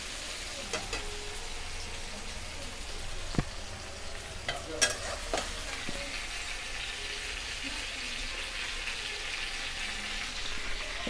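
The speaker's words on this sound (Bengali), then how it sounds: "দেখুন আমাদের বেগুন আলুটা ঠিক ভালো করে লাল করে ভাজা হয়ে গেছে।" Brinjal and potato fry in oil in a pan with a steady, close sizzle. A few sharp clicks and scrapes of stirring sound over it, and no one speaks.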